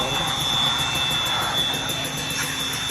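A Raider motorcycle engine on a dynamometer at a shop in Caloocan, a continuous loud high-revving drone with a sharp whine, sustained without pause over the short stretch.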